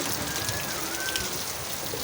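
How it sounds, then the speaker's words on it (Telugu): Steady heavy rain pours down outside, a dense continuous hiss with no voices. "బయట అయితే వర్షం పడుతుందండి కొంచెం గట్టిగా అయితే పడుతుంది"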